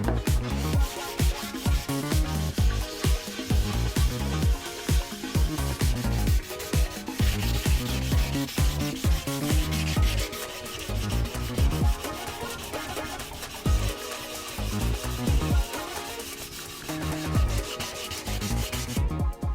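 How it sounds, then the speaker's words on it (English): A Colnago V4Rs carbon bicycle frame and fork are sanded by hand, with continuous close, loud rubbing strokes in a fast, even back-and-forth rhythm throughout. "let's sand down the frame and the fork"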